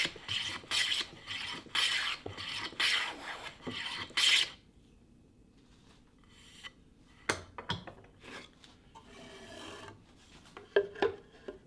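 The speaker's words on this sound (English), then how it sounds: "Truing up the edge, taking out the saw kerf." Hand plane truing up the edge of a wooden board held in a vise to take out the saw kerf, a burst of rhythmic rasping strokes, then quieter scattered knocks and handling sounds, heard close.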